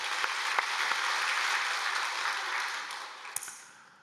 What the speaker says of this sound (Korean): 우리 하나님께 박수를 한번 영광 돌리겠습니다.